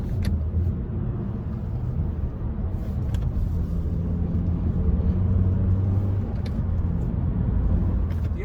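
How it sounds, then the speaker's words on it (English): A 2016 Honda Jazz with its 1.3-litre 100 horsepower VTEC engine drives at speed, giving a steady low engine rumble mixed with road noise heard from inside the cabin, continuous and fairly loud. "The engine, as we were saying, is a 100 horsepower VTEC unit."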